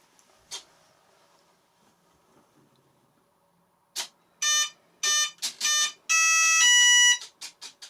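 An RC receiver on an H King 750mm Corsair model airplane powers up, its servos running a startup sequence: a single chirp, then a series of sharp electronic beeps and buzzy servo bursts in quick uneven succession, close and fairly loud.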